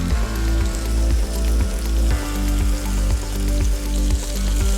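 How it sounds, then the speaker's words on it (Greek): Pita dough fries in a pan beside chicken gyros, giving a loud, continuous close sizzle with bubbling crackle throughout. "Την βάζουμε στο τηγάνι και δίπλα θα βάλουμε το γύρο μας να ζεσταθεί."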